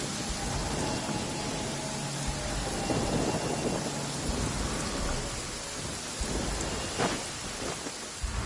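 Steady heavy rain pours throughout in the video game Genshin Impact, with deep rolling thunder rumbling underneath; no voices.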